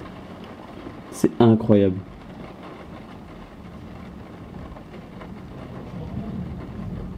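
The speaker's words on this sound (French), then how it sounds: "Il n'y a que du tonnerre" Steady rain hiss fills a moderate-to-strong June thunderstorm with an arcus cloud in Amboise, while low thunder rumbles faintly in the background; a man briefly exclaims near the start.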